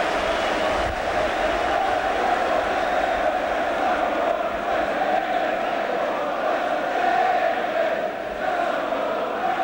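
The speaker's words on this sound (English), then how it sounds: "the Swindon crowd are singing there's only one Fraser Digby" Swindon Town supporters at a Third Division play-off final replay against Gillingham sing a sustained chant for goalkeeper Fraser Digby, a steady, distant wall of massed voices that holds without a break.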